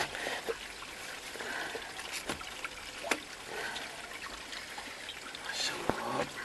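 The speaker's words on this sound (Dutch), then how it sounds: "Er blijft altijd wat water komen." Water keeps trickling through a drain system with its slide valves shut, a soft steady flow broken by occasional drips and knocks, fairly quiet and close.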